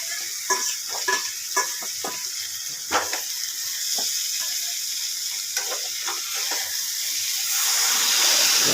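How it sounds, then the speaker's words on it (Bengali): Water goes into a hot pan of spiced potatoes, and a rising, steady steam hiss and sizzle builds over the clip. Sharp scrapes and clinks of stirring break in early on. "এবার জল ঢেলে দিলাম।"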